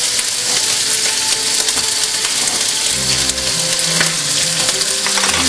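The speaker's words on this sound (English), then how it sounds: "it's been frying for about a minute now" Fried rice with garlic frying in a pan while being stirred, a loud continuous sizzle with scraping and clinking stirring noises, close up and without talk.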